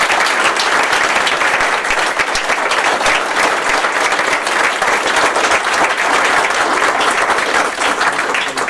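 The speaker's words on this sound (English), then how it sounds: "Let's give our students a round of applause" Loud, sustained applause from a school-district audience honouring students at a Citizen of the Month ceremony, dense steady clapping that fills the whole stretch with no voices over it.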